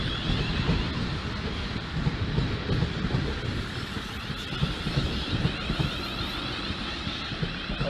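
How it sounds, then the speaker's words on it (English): Class 450 electric train pulling into a platform at Basingstoke station, a steady broad rumble of wheels and traction noise with faint rhythmic clatter, loud and continuous throughout. "the train now approaching platform 2 is the 1622 5 Tango 45 from Basingstoke"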